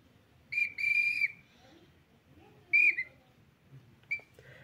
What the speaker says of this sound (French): Un puissant coup de sifflet retentit